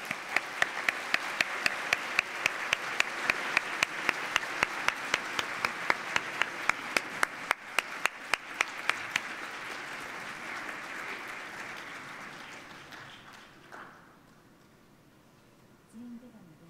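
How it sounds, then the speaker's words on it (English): Applause from the audience in a conference plenary hall at a high-level leaders session, steady, dense clapping with a few sharp nearby claps for about twelve seconds, fading out to quiet room tone and a brief murmur. "please give him a round of applause"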